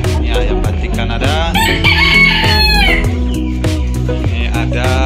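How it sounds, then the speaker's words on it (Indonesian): A Canadian batik rooster lets out a loud, drawn-out crow close by, surrounded by other fowl sounds at a breeders' yard of ornamental chickens. "Ini ayam batik Kanada."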